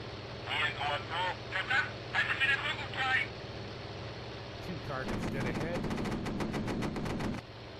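Aircraft guns fire in the flight sim game IL-2 1946 during a dogfight with a P-39, a rapid burst of machine-gun rounds lasting about two seconds, loud and close over engine drone, after someone talks.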